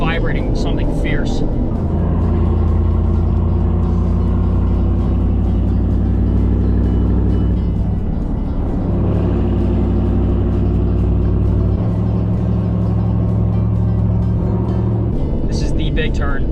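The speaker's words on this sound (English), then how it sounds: "Tire in the back is vibrating something fierce." A Chevrolet Silverado ZR2 pickup on 44-inch tires drives with a loud, steady low engine and road drone and a shifting vibration from the rear tire, with people talking over it inside the cab.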